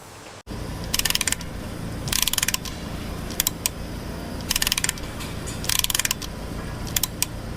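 Clamps engage and turn a scrap fighter jet engine during disassembly, producing repeated bursts of ratcheting mechanical clatter close by over a constant industrial drone, with no voices.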